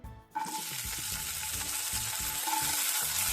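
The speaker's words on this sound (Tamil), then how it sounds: "முந்திரி திராட்சை உள்ளே போட்டு வதக்கிக்கலாம்" Cashews and raisins sizzle steadily in hot ghee as they are sautéed for kesari, a continuous close frying hiss with faint stirring, starting right after a brief quiet moment.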